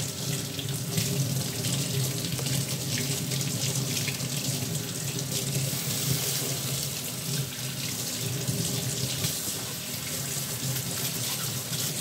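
Tap water runs steadily into a sink, splashing over an object being rinsed, with faint clinks and rubbing under the constant flow.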